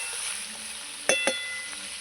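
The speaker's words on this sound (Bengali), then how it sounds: "এইভাবে ভেজে নিয়েছি আমি অল্প ভেজে নিয়েছি" Drumstick stems and potatoes frying lightly in a pan give a low, even sizzle, broken by two sharp utensil clinks near the middle, close and fairly quiet with no talking.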